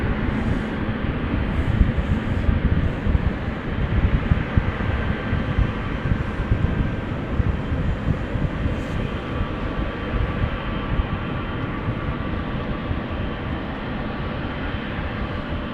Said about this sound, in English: This is KLM flight 744 on the move,